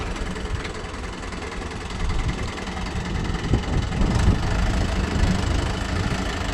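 A big vehicle's engine runs at a building site, a steady close diesel rumble that swells slightly as it reverses, with no voices heard.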